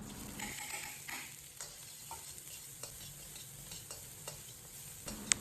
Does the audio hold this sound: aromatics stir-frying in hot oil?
yes